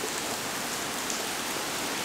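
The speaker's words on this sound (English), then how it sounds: "I don't think I've seen this much rain before here." Heavy rain pours down steadily outdoors, a dense, continuous hiss of drops with no pauses, close and fairly loud throughout.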